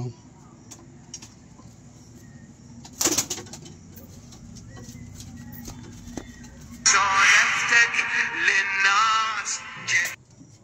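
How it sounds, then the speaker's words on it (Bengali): A Giriraj pigeon lets out a soft burst of wing flaps, then a loud, sustained close coo lasting a few seconds, with someone speaking briefly nearby. "এটা মাদি পায়রা"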